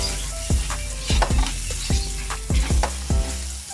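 Garlic and onion sauté in a little oil for Filipino kare kare, a steady close sizzle punctuated by about eight sharp metallic clanks of a utensil stirring against the pan in an uneven rhythm.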